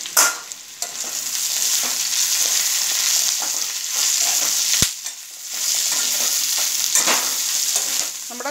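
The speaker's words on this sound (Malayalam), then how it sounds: "എന്നിട്ട് നന്നായിട്ടൊന്ന് ഇളക്കി കൊടുക്കുക." Ivy gourd frying with crushed chili in a pan, stirred in repeated scraping strokes over a strong, close sizzle, with a sharp clank near the middle.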